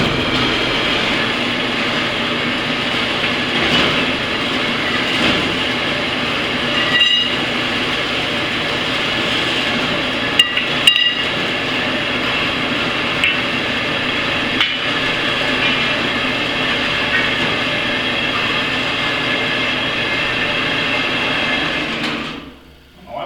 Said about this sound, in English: Bandsaw is not shutting off today.